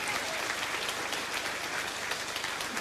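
An audience at a Swedish jazz concert claps in a thick, sustained burst of applause that stays even throughout, with no voices over it.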